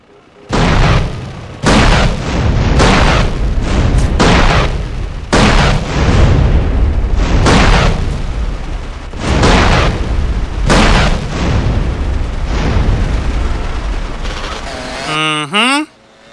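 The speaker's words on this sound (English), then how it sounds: "Bazooka for the win." Bazooka rockets exploding in GTA San Andreas, a run of loud, heavy booms in quick succession, each blast trailing into rumble, with a brief whooshing pitch sweep near the end.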